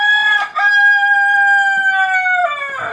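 A rooster gives one long, loud crow close by, a strained, drawn-out call sustained for nearly three seconds before trailing off in a rough ending.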